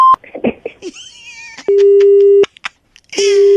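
Phone disconnect tone after a call is cut off: two long, loud, steady beeps separated by a short gap, following a few brief muffled sounds on the line.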